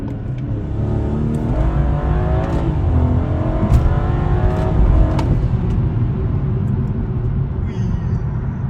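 BMW M240i with a B58 engine pulling hard at about 40 mph while an antilag setup is tested; a steady, loud engine drone rises through the run, with brief pops and a voice talking over it.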